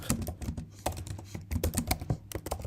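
Rapid, continuous typing on a computer keyboard while coding a React and Laravel radio player app, with dense, uneven clacks of keys close by and no talking.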